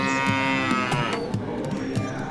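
A cartoon cow lets out a long, drawn-out moo over a bed of light background music, loud and close, with no speech.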